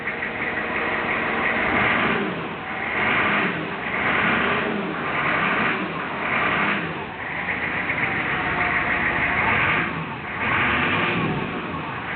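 A 1994 Chevrolet 3500 turbo diesel truck engine revs repeatedly, rising and falling in several regular surges of roughly a second or two each, loud and close.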